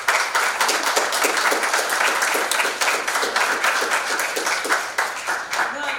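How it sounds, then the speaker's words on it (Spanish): An audience at a university thesis defense rehearsal claps for the presenters, with many hands producing a dense, lively patter at steady volume throughout. "Así que un aplauso para los expositores."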